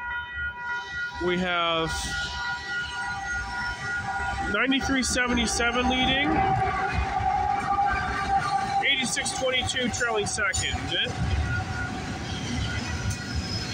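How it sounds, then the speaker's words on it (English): CPKC 119, an intermodal freight train, rolls past at Bartlett Avenue in Toronto with a continuous rumble, horn-like tones rising over it, while a voice talks throughout. "We have an intermodal train"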